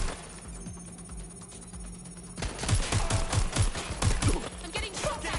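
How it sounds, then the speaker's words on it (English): Gunfire in Watch Dogs: Legion, rapid bursts of shots breaking out midway after a quieter stretch, loud and close with repeated punchy cracks. "I'm getting shot at!"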